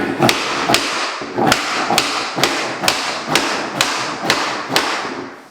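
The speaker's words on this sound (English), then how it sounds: "this is a little bar I can put at the edge here and bang on this" Tapping block struck with a hammer against the edge of floorboards to tighten flooring joints, a steady series of about eleven sharp knocks at an even rhythm, close and loud with no talking.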